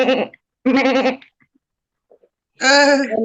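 A goat bleats three times, loud and close, with short gaps of near silence between the wavering calls and the last call the strongest.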